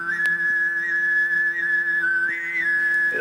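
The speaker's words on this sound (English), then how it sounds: "As they're singing, there's a kind of a whistle that develops on top of the singing" Tuvan throat singing holds a low steady drone while a bright, whistle-like overtone rides above it, sustained and shifting pitch near the end, with no other voices.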